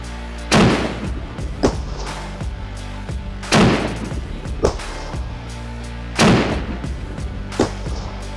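Three rifle shots fired through a taped muzzle at steel targets outdoors, each a loud close blast spaced about three seconds apart, followed by a fainter distant ring or impact echo.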